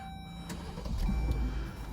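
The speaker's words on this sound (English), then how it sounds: "you want to start the vehicle that is gonna provide the power." A car engine cranks and starts, a low rumble swelling and settling as the car is run to jump start a tractor; it is faint and heard alone.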